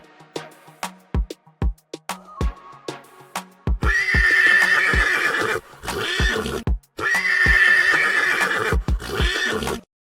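A comedic stallion sound effect: a few hoof clip-clops and short snorts, then two loud drawn-out horse neighs, each a long shrill whinny filling the space, separated by a brief pause.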